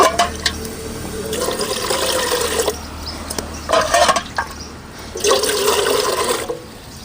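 Water splashes and pours in several short bursts while making ragi idiyappam, with gurgling liquid sounds between quieter pauses nearby.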